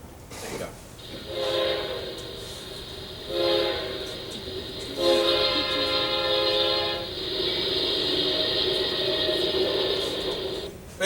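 A train passes with long, loud horn blasts sounding in several sustained bursts over a rumbling rail background, heard clearly and close.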